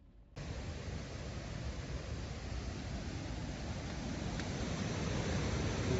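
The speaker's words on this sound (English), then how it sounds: "Right on the other side of this rock is an epic waterfall." Inglis Falls roars as a steady, broad rush of falling water that swells in gradually and holds loud and unbroken, with no voices.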